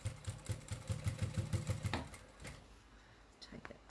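A sewing machine stitching a quilted cathedral-windows table runner, a rapid close mechanical chatter for about two seconds that then stops, followed by faint handling noises.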